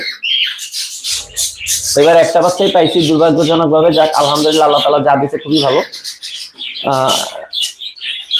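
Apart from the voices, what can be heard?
grey cockatiel pair squawking and chirping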